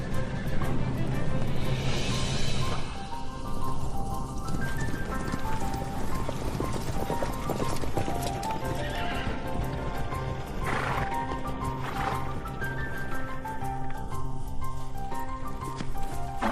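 Mongolian horses on the open grassland of Inner Mongolia, with repeated whinnies and neighs and soft hoof clip-clop, set against a continuous layer of background music.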